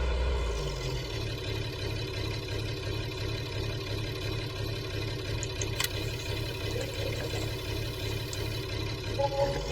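Steady idle of a two-wheel drive tractor engine on a farm before lime spreading, a continuous low rumble with a constant mechanical hum and no breaks.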